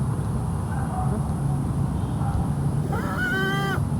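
A kalambat call instrument gives one bright, harmonic honking call near the end, rising and holding briefly over a steady low background rumble.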